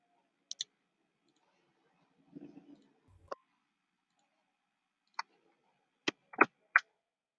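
Computer mouse clicks during snipping and copy-pasting, a handful of sharp isolated clicks spread over several seconds in a quiet room, with a brief soft rustle in between.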